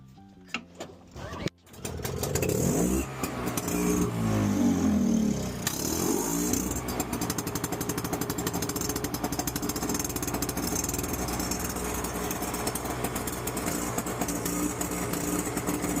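An Ariens small engine, its carburetor just cleaned of oil, is pulled and catches after a brief quiet moment, revving up loudly and then settling into a steady, close running drone that continues throughout.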